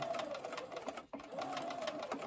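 A sewing machine stitches quilt pieces, running in fast steady bursts up close, with a short pause partway through before the stitching resumes.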